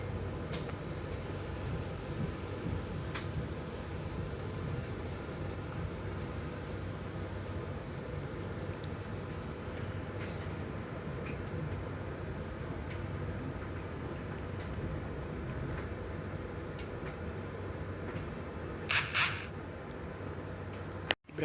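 The KA Argo Muria passenger train, after a stop at Tegal station in Indonesia, gives off a steady, unbroken rumble throughout, with a few faint clicks and a brief brighter squeak near the end.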